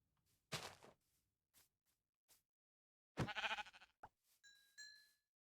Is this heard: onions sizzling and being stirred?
no